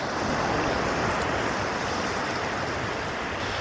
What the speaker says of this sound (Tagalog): Banayad na alon